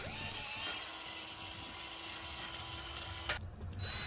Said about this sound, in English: now I'm pre-drilling my pilot holes for the bigger drill bit that I'm gonna put through.